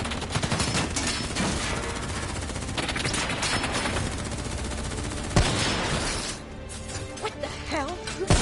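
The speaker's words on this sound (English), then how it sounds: "Who's shooting?" Dense gunfire in the Call of Duty Black Ops III campaign, rapid overlapping automatic shots with crashes and a sharp impact partway through, loud and continuous with brief voices.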